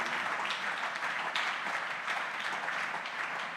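A church congregation applauding during a Sunday worship service, steady dense clapping that stays even throughout, with no voice over it.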